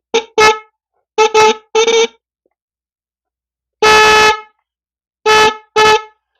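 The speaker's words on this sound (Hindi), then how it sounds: "इसलिए मैं ज़्यादा देर तक हॉर्न को प्ले नहीं कर रहा हूँ।" Several loud, short blasts of a repaired vehicle horn, given in pairs and singles with pauses between, very close and harsh, sounded indoors.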